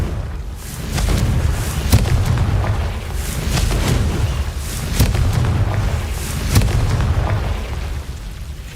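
Explosions from spell blasts in a Hogwarts video game, a series of loud deep booms and bursts with rumbling low-end tails that repeat at irregular intervals.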